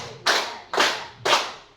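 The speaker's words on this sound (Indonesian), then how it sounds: "Tepuk tangan 4." A group clapping in unison at a school training session: three crisp, loud claps spaced about half a second apart, each with a short fading tail.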